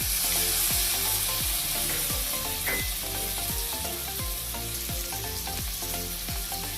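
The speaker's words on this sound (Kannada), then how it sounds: "ಗೋಡಂಬಿ, ಟೊಮ್ಯಾಟೊ ಸ್ಮ್ಯಾಶ್ ಆಗೋವರೆಗೂ ಫ್ರೈ ಮಾಡಿ." Cashews and tomatoes fry in a pan for a mushroom tikka masala, a steady close sizzle broken by regular scraping strokes of a spatula stirring, with no voices.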